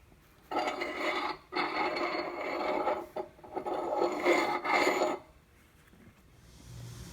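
A saw or file rasps through a half-inch stainless steel bolt to cut the head off, in three long grinding strokes with brief pauses between them, close and steady. No one speaks.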